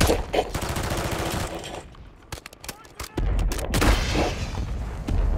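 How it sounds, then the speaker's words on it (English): Mortar strike in the Warzone video game: a dense burst of loud gunfire and heavy explosive blasts, falling to a thinner patter of sharp shots midway before a second heavy barrage swells, with voices talking underneath. "Mortar support incoming! Copy that, the mortar strike inbound."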